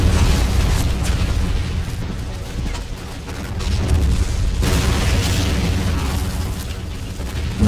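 Katyusha rocket barrage in the World War II strategy game Men of War, a continuous roar of overlapping explosions and rumbling booms, loud and dense throughout.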